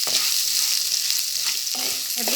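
Onions sauté in an oiled pan for a Tamil crab curry, a steady close sizzle with a couple of soft stirring scrapes.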